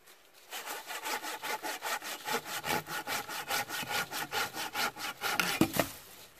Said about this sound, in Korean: 여기도 한번 자르고 여기도 한번 자르고.